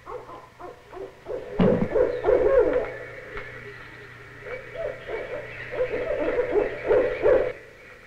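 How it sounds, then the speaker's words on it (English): A barred owl hoots in a series of deep, rhythmic calls, fairly close, repeating over several seconds in a quiet outdoor setting. "We're listening to the call of the barred owl."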